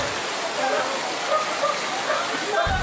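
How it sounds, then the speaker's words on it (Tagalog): Heavy sudden afternoon rain pours down steadily in Marikina, a dense, hissing wash, loud and unbroken throughout. "Ang bigla ang pagbuhos ng malakas na ulan kaninang hapon,"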